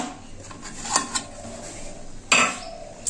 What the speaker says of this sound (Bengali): এবার আমি ঢাকনাটা খুলে